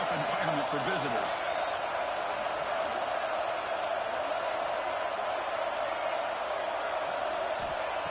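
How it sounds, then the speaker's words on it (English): Steady roar of a large football stadium crowd during an early-game college matchup, a dense continuous wash of cheering and noise that never lets up, with a brief burst of louder whoops near the start. "Listen to the crowd energy here in the early going."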